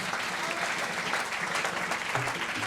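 A church congregation applauding loudly at a gospel service, dense sustained clapping from many people throughout, close and full, with voices mixed in beneath.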